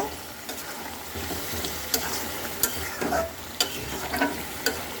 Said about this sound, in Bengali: গরম মশলাটা দেওয়ার পর খুব সুন্দর করে মিক্সড করে দেব